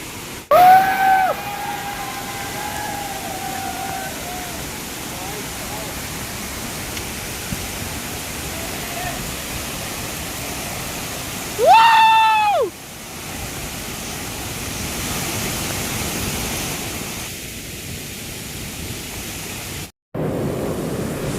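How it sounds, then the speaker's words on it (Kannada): Steady broadband rush of falling water at Goyar Falls in Karwar, India, during the monsoon fills the scene, with brief whistle-like tones near the start and middle. "ಇಲ್ಲೊಂದು ಫಾಲ್ಸು ಮೇಲ್ಗಡೆ ಇನ್ನೂ ವರ್ತಿ ಫಾಲ್ಸ್ ಇದೆ"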